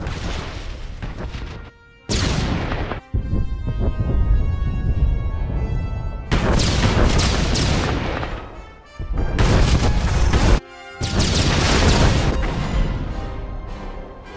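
Heavy battle fire from Star Wars The Old Republic: dense bursts of blaster shots and booming explosions in long loud stretches, broken by brief sudden cutoffs, with no talking.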